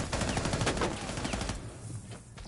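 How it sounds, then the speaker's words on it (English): Rapid bursts of video game gunfire from a competitive team match, dense and continuous for about a second and a half, then thinning out into scattered faint shots. "Kingsley putting down a lot of bullets downrange there."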